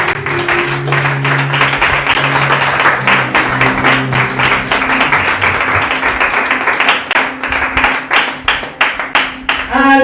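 A church congregation claps steadily in rhythm during a worship service, a loud, continuous run of hand claps with voices and music underneath throughout.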